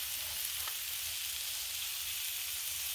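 Thick pork chops sear on a Blackstone flat-top griddle set a notch or two above low, putting out a constant, even, hissing sizzle with no voices.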